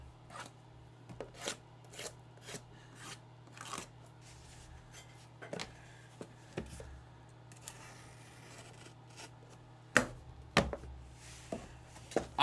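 A blade slicing through the packaging of a box of Optic Mega NFL trading cards, heard as a series of sharp, close scraping cuts and clicks in a regular rhythm, with louder tearing strokes near the end and no talk.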